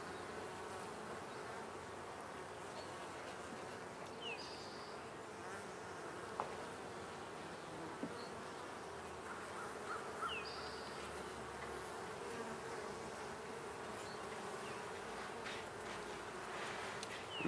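Honeybees hum steadily around a hive close by, with a continuous even drone and a few individual bees buzzing past the microphone.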